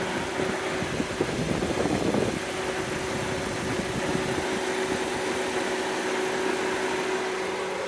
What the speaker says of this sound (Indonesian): Coba kita nyalakan mesinnya agar teman-teman bisa tahu bagaimana suara mesin di mobil ini.